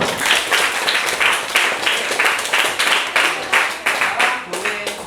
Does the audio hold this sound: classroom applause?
yes